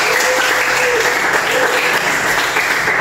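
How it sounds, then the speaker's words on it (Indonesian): A classroom audience claps together in sustained, loud applause lasting the full few seconds, with no pause in the clapping. "Oke, berikan aplaus untuk Bu Nanti."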